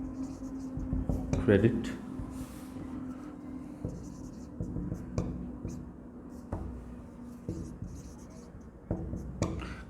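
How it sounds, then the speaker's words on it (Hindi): A pen scratches across paper as debit and credit entries are written by hand for an accounting lesson, giving soft, intermittent strokes close by under steady talking. "डेबिट एंड क्रेडिट पूरा लिख देते हैं"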